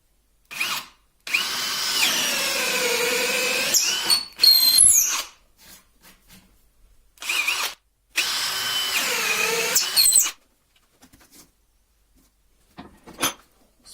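A DeWalt drill drives a spade bit into wood through about four centimetres of material, whining loudly in several long bursts with short pauses and small clicks and bumps between runs.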